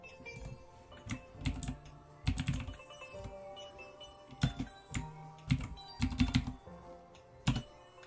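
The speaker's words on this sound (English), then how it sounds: "I'll type it in the chat" Bursts of fast typing on a computer keyboard, with clusters of sharp keystrokes separated by short pauses, close and clear with no voices.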